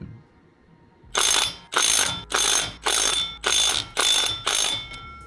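Seven loud, evenly spaced bursts of ratchet clicking as a wrench tightens pressure plate bolts, each burst a rapid buzzing rattle with short pauses between, close up and with no talk.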